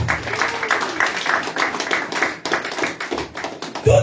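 A church congregation claps in a quick, steady rhythm, many hands beating together at close range for several seconds, with a brief voice cry near the end.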